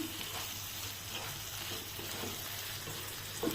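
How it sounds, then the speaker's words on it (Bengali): Mushrooms sautéing with spices in a pan give off a steady, close, even sizzle that holds throughout, with a faint stir or scrape near the end and nobody speaking. "এবার দেখো আমি ঠিক 2 থেকে 3 মিনিট মাশরুমটা মশলাটা একসাথে কষিয়ে নেব এবং ঢাকনা দিয়ে দেব।"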